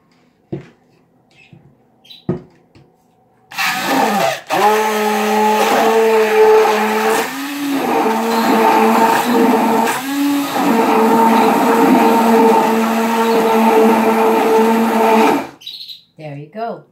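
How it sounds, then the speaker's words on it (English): An electric mixer whirs loudly and steadily for about twelve seconds while mixing leche flan, its pitch dipping briefly a few times, with short bumps and clatter before it starts and after it stops. "a special mixer. And I'll mix it with this one."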